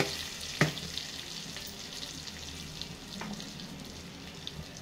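Cumin seeds crackle softly in hot oil or butter, a low steady sizzle with a sharp tap near the start and faint stirring sounds, no talking.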